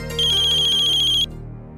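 A phone ringtone trills loudly for about a second as a steady electronic ring, then cuts off, with low background sound continuing underneath, in a scene from a Hindi TV drama.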